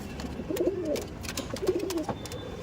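Lambari breed pigeons, an old-lineage male and female pair, give two soft rolling coos close by, separated by a short pause, over faint background rustle.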